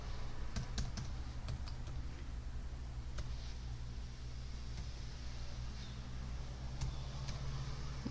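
Computer keyboard clicks as a number is typed into an Excel cell, a quick cluster of light taps early on and a few scattered keystrokes later, faint over a steady background hum.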